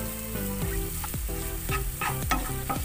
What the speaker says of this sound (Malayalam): ആവശ്യമെങ്കിൽ കുറച്ചുകൂടി ബട്ടർ ആഡ് ചെയ്ത് കൊടുക്കാം. ഇതിലേക്ക് 1/2 ടീസ്പൂൺ ജീരകം കൂടി ചേർത്ത് കൊടുക്കാം.